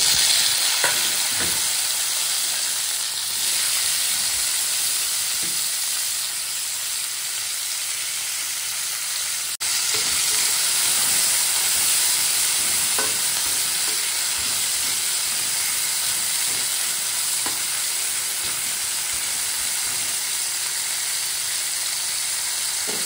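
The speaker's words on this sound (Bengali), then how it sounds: "আজকে উচ্ছে আর সিম একসাথে ফ্রাই করে নেব।" Bitter gourd and flat beans frying together in a pan, a steady broadband sizzle and hiss with occasional stirring scrapes over the full stretch, close and fairly loud with no voices.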